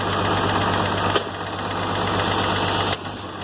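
A 706 tractor with a D436 diesel engine runs steadily nearby, giving a loud, even, knocking idle with a deep throb and mechanical vibration, plus a couple of brief clunks and no talking.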